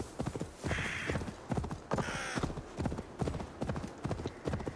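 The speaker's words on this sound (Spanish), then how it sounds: "vamos a tirar de caballo" Rhythmic clip-clop of horse hooves galloping in quick repeated bursts in the video game Assassin's Creed Valhalla, with a brief whinny partway through, close and loud.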